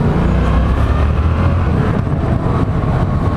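A Ducati Scrambler 1100 motorcycle ridden past Maurer Park, its engine a steady, loud drone with wind rush, close and continuous with no talk.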